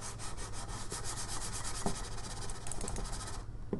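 A computer mouse slides directly across a bare desk with no mouse pad, giving a continuous close, dry scraping rub with a faint rhythmic pulse before it stops.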